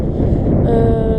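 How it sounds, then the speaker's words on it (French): Steady loud wind buffeting a microphone outdoors, a continuous low rumbling roar with no voices. "Désolée pour le bruit du vent."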